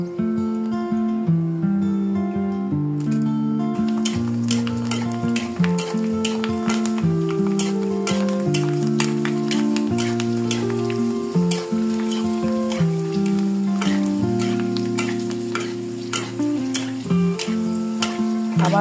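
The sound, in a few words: fuchka (puri shells) frying in oil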